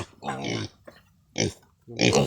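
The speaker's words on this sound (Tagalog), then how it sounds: "So dito na tayo sa tangkal o sa kulungan ng baboy." A pig in its pen gives several short, close grunts in uneven bursts, with a little talking between them.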